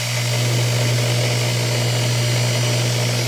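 A drill spins a replacement digital encoder for a TS-990S radio at high speed, about 246 revolutions per second. It makes a steady, continuous motor hum and whine with no pauses and no voices.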